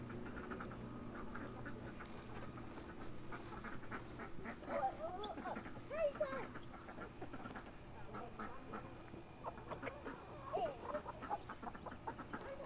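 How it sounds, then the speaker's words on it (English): Free-ranging chickens cluck and squawk as they come out in the morning, with scattered calls and a few louder squawks over a steady low background hum, mid-distance and fairly faint. "all the chickens come out"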